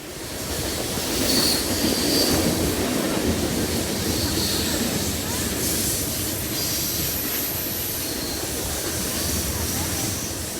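Three BNSF freight trains, a manifest, a coal train and an intermodal, roll steadily past Carkeek Park, with continuous loud rumbling, wheel noise and faint high squeals throughout.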